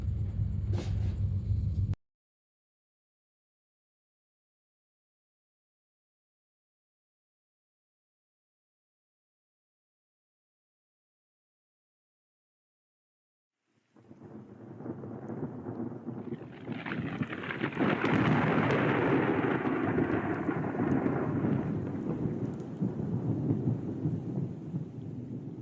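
A thunderstorm's rumbling thunder swells in after a pause and rolls on loud and sustained, with broad low roaring and a brief burst at the very start, and no voices.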